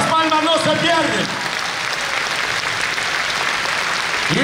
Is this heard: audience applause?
yes